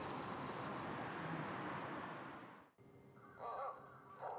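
Crows from a flock roosting by a train station in Nagaoka, Japan, caw in short repeated calls after a fading wash of broad traffic or train rumble, the calls moderately close and clear over quieter background noise.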